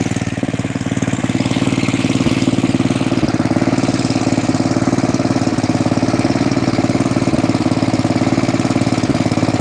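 A snowblower engine runs steadily at half choke, with a continuous, loud, even idle-like drone and rapid regular firing pulses throughout, with no talking.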